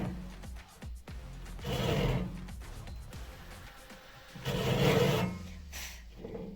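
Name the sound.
cutting a small notch in a wooden frame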